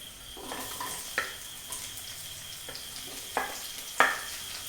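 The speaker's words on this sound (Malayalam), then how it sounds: "അത് കഴിഞ്ഞ് അതിലേക്ക് ഈ സവാള അരിഞ്ഞതിടുക." Chopped onions frying in a pan while cooking a curry, a soft steady sizzle with several sharp clinks of a utensil against the pan.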